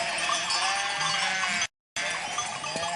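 Large flock of around 300 sheep on a Greek farm bleating together in a continuous overlapping chorus, with a clanking bell nearby and a brief dropout in the sound.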